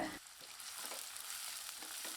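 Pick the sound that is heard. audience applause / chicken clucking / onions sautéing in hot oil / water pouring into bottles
onions sautéing in hot oil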